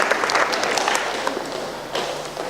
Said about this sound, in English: can we have a round of applause for our lads, first of all, please?